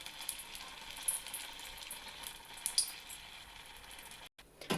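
Gram-flour-battered tomato bhaji frying in oil in a kadhai gives a steady, close sizzle with small crackles and pops throughout, then a brief drop at the end.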